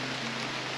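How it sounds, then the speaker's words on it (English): Heavy rain pours outdoors in the Trossachs of Perthshire, Scotland, a constant close wash of noise with no talking. "It is really raining now."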